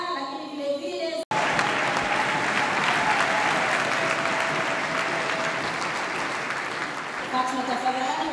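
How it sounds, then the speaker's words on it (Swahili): Loud, steady audience applause at a university entrepreneurship camp, swelling right after a brief spoken voice and carrying on densely for several seconds before easing slightly near the end. "hongera sana na makofi mengi sana kwako"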